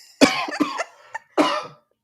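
A person coughs in a few sharp, harsh bursts: two quick coughs close together, a small one, then a final hoarse cough, all close and fairly loud.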